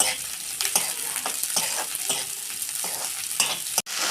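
Sweet corn is stirred in hot oil in a pan over low heat, giving repeated scraping strokes over a steady sizzle, close and fairly loud, with a brief dropout near the end.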